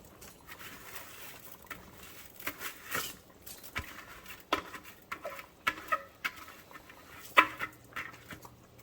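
Two cups of dry rice pour into a cooking pot for Jamaican rice and peas, making faint, scattered ticks and light patter that come in uneven clusters of grains.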